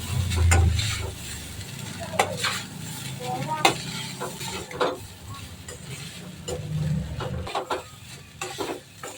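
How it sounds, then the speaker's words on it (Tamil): Egg fried rice being gently mixed in a pan at home, with steady scraping and stirring strokes over a light sizzle, close and moderately loud, with a few clinks of a spoon against the pan. "அரிசி உடையாமல் நம்ம லைட்டாக மிக்ஸ் பண்ணிக்கணும்"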